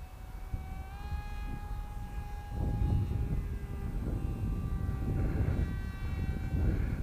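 The propeller motor of a homemade foam RC F16 plane whines at half throttle, a steady tonal buzz heard from a distance over wind noise, pitch shifting slightly as the plane flies.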